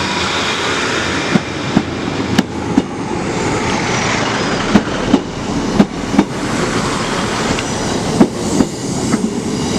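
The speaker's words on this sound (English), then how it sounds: "departing now is the 1056 Northern service to Manchester Piccadilly. 150121 and 156441 will be taking away this service" Northern service formed of units 150121 and 156441 pulling out of Chester station, a loud continuous rumble with a steady rhythm of wheel clicks over rail joints.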